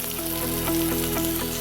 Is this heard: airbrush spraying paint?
no